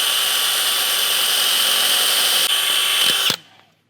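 Power drill whines loudly and steadily while drilling out holes during an Ironman 4x4 torsion bar install on a Toyota 100 Series Land Cruiser, with a couple of clunks before it abruptly stops and spins down.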